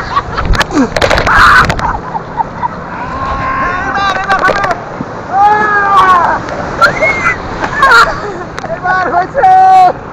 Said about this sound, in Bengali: কঠিন ঢেউ